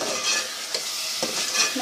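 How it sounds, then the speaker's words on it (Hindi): Spice masala roasting and being stirred in a pan while cooking ridge gourd bhujiya, with a steady sizzle and a few scraping stirs, close and moderately loud. "मसाला भुन रहा है हमारा, अभी इसको थोड़ा सा हम और चलाएँगे।"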